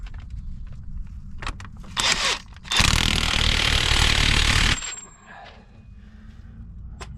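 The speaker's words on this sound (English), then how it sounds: "It came out without too much difficulty with the gun, so it's just going back in with a gun." An impact gun drives a bolt back in on a Saab 9-5 Aero, with clattering tool noise first, then one loud continuous buzzing burst of about two seconds before it stops.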